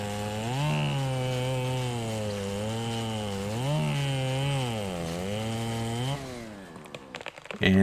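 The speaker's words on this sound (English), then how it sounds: "It'll start the chainsaw animation." A chainsaw sawing down a tree during a lumberjack job in the video game GTA RP, a loud steady engine drone whose pitch rises and dips several times, then cuts off into brief clattering near the end.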